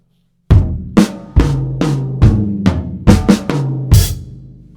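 Drum set fill of roughly nine sharp, close strikes with resonant tom-like tones and short ringing tails, played at a measured pace and ending on a brighter crash.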